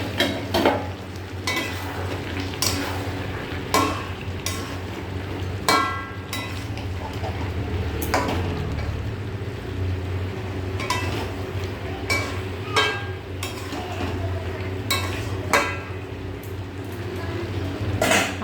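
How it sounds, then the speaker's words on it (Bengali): A pot lid lifted and food stirred as it fries in a pan: a steady loud sizzle runs throughout, with repeated clinks and scrapes of utensil against metal and the lid at irregular intervals, no talking. "আবার ঢাকাটা তুলে আবার একটু নাড়া দিয়ে দেবো।"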